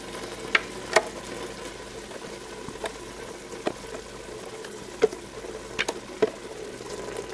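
Black bean mixture of pureed and whole beans being stirred in a pan: a soft steady sizzle with occasional faint clicks of the utensil against the pan, quiet and close, no speech.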